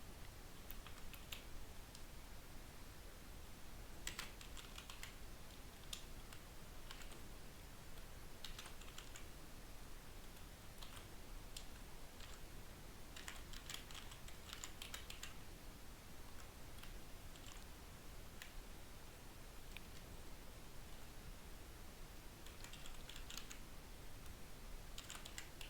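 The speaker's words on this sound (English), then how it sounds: "Hopefully I typed that correctly." Keys tapping on a computer keyboard in quick irregular bursts with short pauses between, light clicky strokes close up over a soft hiss, steady and fairly quiet throughout, with no voices.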